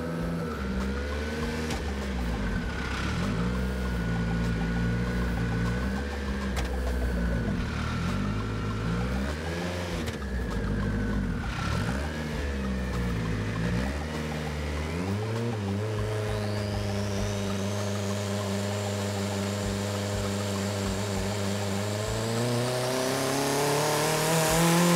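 Turbocharged race car engine on a boost pull running at about 14 pounds of boost, a loud sustained drone wavering in pitch, then climbing steadily into a rising rev with a high turbo whine toward the end.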